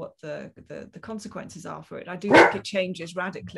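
A small dog barks and yips briefly at the postman, one sharp bark standing out midway while a person keeps talking over it indoors.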